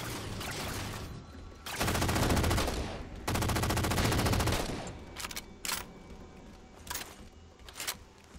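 Two long, loud bursts of rapid SAW machine-gun fire in Halo 4, each a continuous rattle lasting about a second and a half, followed by a few sharper single shots and impacts against game ambience.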